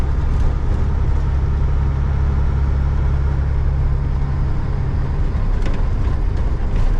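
Interior of a faulty owner-operator truck while driving, a constant heavy low rumble and drone with road vibration throughout, steady and close.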